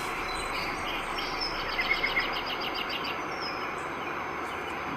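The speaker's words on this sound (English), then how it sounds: "it sounds to me like this particular one maybe got some water in the background with some birds chirping" A Roffie white noise sound machine playing a nature track of flowing water with birds, a steady hiss of water under a short burst of bright, repeated chirps in the middle of the clip.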